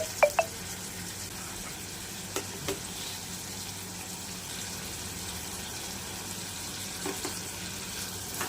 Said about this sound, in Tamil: எறாவையும் நல்லா வதக்கி விட்டுறலாம்.